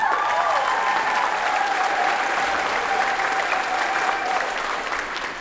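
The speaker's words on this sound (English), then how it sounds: "Everybody give Julia a clap real quick" Steady audience applause fills a school band spring concert at a middle school, a dense, loud clapping that holds throughout and eases slightly toward the end.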